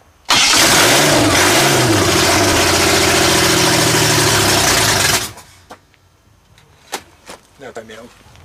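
A supercharged V6 engine cranks and fires, then revs loudly and roughly for about five seconds before shutting off, leaving a few faint knocks and voices afterward.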